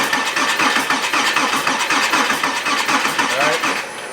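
Blown Porsche Cayman S engine cranking over on the starter during a compression test, a steady rapid rhythmic chugging that runs loud and close through the whole stretch, with a brief squeal near the end.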